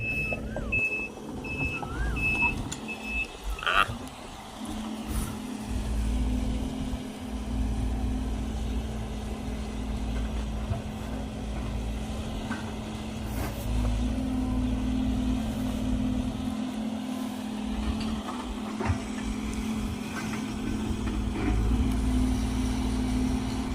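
A Sumitomo excavator clears land and pulls out trees, its diesel engine droning steadily nearby with a low hum, rising and falling as it works, and occasional clanks and high tonal beeps.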